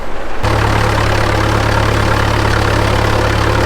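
A farm tractor engine runs loud and close with a steady, even mid-low drone throughout, with no pauses or changes in pace.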